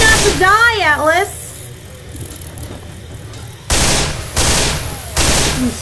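Gunfire in Left 4 Dead 2 at the Dark Carnival, with several loud bursts of shots coming after a rising and falling siren-like squeal and a quieter stretch.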